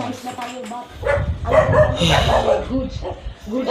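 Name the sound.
dog barking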